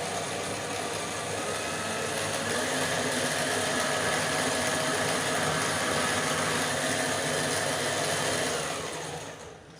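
Electric mixer creaming chocolate buttercream on medium speed, a steady, loud motor whir running unbroken for nearly ten seconds before easing off at the very end.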